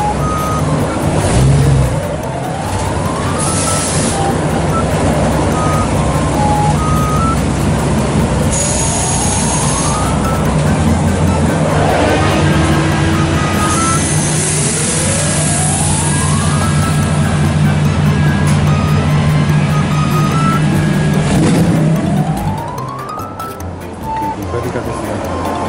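A 1953 Chevrolet custom lowrider rolls back toward a street gathering, its engine a steady low rumble under repeated rising beeps and close, animated talk from people nearby.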